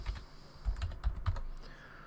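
Someone types briefly on a computer keyboard, a short run of close, quiet clicking keystrokes in an uneven rhythm.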